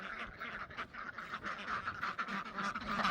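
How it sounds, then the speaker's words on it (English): Ducks quacking on a farm at a chicken run gate, a dense nearby chorus of overlapping nasal quacks and honks that keeps up steadily throughout. "Ducks, assemble."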